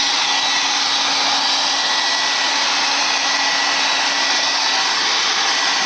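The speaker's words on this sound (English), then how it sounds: "go ahead and use the hair dryer" Hair dryer blowing steadily and loudly at close range to dry spray paint on a canvas, a continuous even whoosh with a faint motor hum and no talk.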